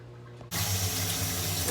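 Water gushes into a pot from a tap for a water bath in cheesemaking, starting abruptly and then pouring steadily and loudly up close.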